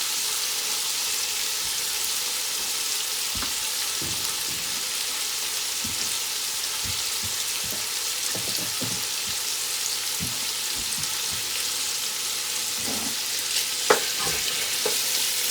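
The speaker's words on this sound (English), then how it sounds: "And I have it over high heat right now because we want to get this well browned" Chicken browning in a skillet over high heat gives a steady, loud sizzle with scattered pops and crackles throughout, one sharper spatter near the end, and no talking.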